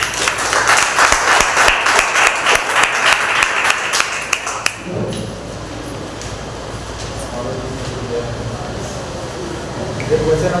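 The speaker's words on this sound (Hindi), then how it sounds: "आइए एक बार उस पवित्र परमेश्वर के लिए जोरदार तालियां हो जाएं।" Congregation at a Hindi-language Sunday church service claps loudly in a dense, continuous burst for about five seconds, then the applause stops abruptly, leaving quiet room noise and faint murmuring.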